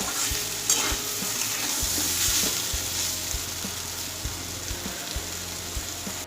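Ridge gourd and potatoes fry in a pan, a steady sizzle broken by repeated scraping stirs of a spatula, close and fairly loud.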